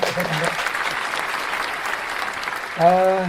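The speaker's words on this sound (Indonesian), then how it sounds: "Kemudian berikan tepuk tangan dulu ya." An audience applauds loudly and steadily during an event with a young Islamic preacher, with a voice talking briefly at the start and again near the end over the clapping.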